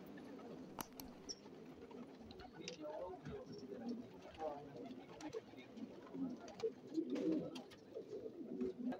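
Pigeons coo softly in low, throaty murmurs, with scattered clicks and rustling close by and faint voices in the background.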